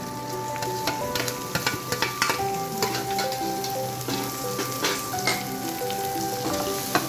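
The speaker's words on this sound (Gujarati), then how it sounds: "ઓનિયન સતળાઈ જાય ત્યાં સુધી આપણે એને સાતળવાની છે." Green onions sauté in hot oil for lemon rice, a steady close sizzle and crackle with scattered pops and brief stirring scrapes, no voices.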